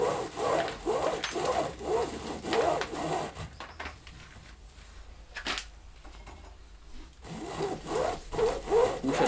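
Rope lacing drawn through the hoops of an alfaia, a wooden bass drum with wet leather heads, gives repeated close scraping, rubbing pulls in bursts, with a quieter pause in the middle before the rasping resumes.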